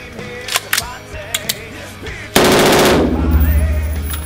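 An AR-15 rifle fires fully automatic from an MN2 magazine, a loud close burst of rapid continuous shots after a few scattered clicks and handling noises.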